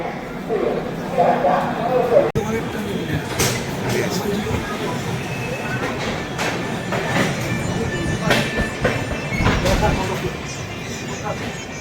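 The Sealdah–New Delhi Rajdhani Express rumbles along the tracks after leaving Asansol Junction, a steady rattling drone, while people talk nearby.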